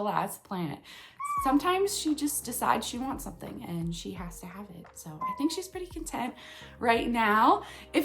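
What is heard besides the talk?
No distinct noise like a dog, phone or traffic.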